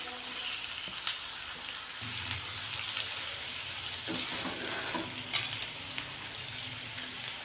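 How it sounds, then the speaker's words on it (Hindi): Chicken fries with garlic-ginger paste in a pan for chicken korma, giving a steady, close hiss and sizzle throughout with occasional clinks and scrapes of stirring. "ये जो हमारा लहसुन अदरक का पेस्ट है ये भी साथ में फ्राई हो जाएगा, और हमारा चिकन जो है ये भी लाइट सा फ्राई हो जाएगा।"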